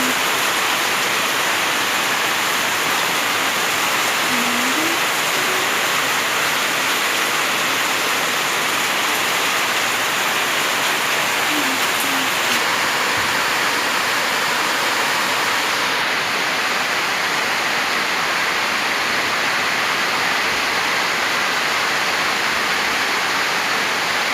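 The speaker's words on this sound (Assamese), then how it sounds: "ইফালে এইটো বম নিজৰা পাই গ'লোঁ। এইফালে বৰষুণ বৰষুণ বৰষুণ, পুৰা বৰষুণ।" A waterfall stream pours in heavy rain, a dense, loud, unbroken rush of water with no voices, steady for the whole span.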